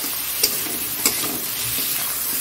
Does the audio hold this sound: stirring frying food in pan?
yes